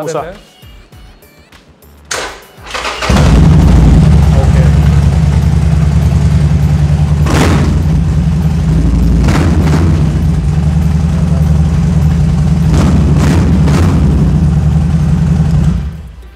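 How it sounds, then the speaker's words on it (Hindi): A used superbike fitted with a Cobra aftermarket exhaust idles with a loud, deep bass-heavy rumble that starts after a brief quieter moment and holds steady, with several sharp revs punching through. "इसके अंदर कोबरा लगा हुआ है इसका साउंड जो आपको महसूस होगा इसमें बेस ज्यादा है"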